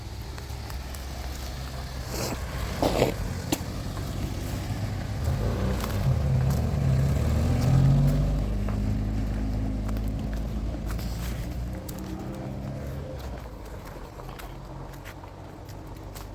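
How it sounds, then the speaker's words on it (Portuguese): A car passes along a quiet road during an outdoor walk, a low rumble that swells near the middle and fades, with faint footsteps and no talking. "está passando um carro e fazendo um barulho aí"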